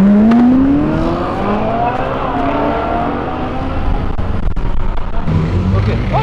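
A Subaru car accelerating hard along a city avenue, engine pitch climbing steeply in a loud near rising whine, then settling into a rough roar with traffic noise.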